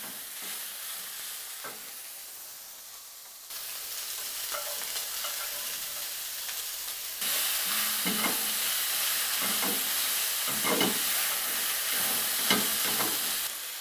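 Onions tossed into beef frying in a pan for beef and broccoli, with a steady sizzle and hiss that grows louder partway through, punctuated by scraping stirs and clinks of the utensil against the pan.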